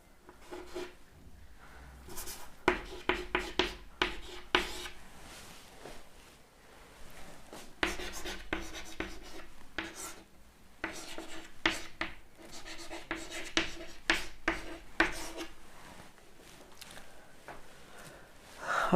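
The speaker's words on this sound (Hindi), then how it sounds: "तो ऐसे आप नाम लिखेंगे इसका।" A pen scratches across paper as a chemical compound name is written out by hand, close and faint, in bursts of quick strokes with short pauses between words.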